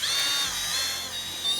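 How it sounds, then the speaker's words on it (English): Power drill driving a screw into a particle board dresser, a continuous high motor whine held close and steady for the whole moment. "I recommend using a drill for this rather than an impact."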